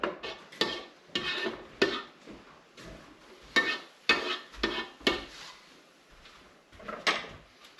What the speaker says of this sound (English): I'm going to just scoop it in, I guess